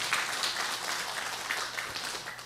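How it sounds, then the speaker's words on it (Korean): Church congregation clapping together in praise during a November Sunday harvest-thanksgiving service, a steady, moderately faint wash of applause lasting throughout with no voices standing out. "하나님께 우리 영광과 감사의 박수를 올려드립니다."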